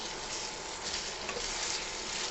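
Chicken kosha masala frying and being stirred in a pan on an induction cooktop, a steady close sizzle with scraping stir sounds running throughout, no talk.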